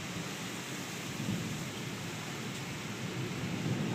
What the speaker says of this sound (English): I wish you could see the sheets of rain